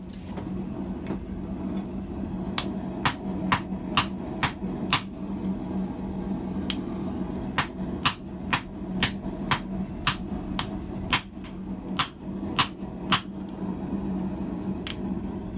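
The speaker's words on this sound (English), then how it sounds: "Hammering some radius on the business end helps reduce the grinding" Sharp, ringing hammer blows strike a 1050 carbon steel fuller on an anvil as a blacksmith forges a radius on its end. The blows come in steady rhythmic runs with short pauses, close and clear over a low hum.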